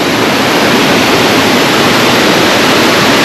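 A mountain waterfall near the village of Tkhagabsh outside Sochi, heard as a loud, steady, close rush of broadband water noise that fills the whole clip without a break.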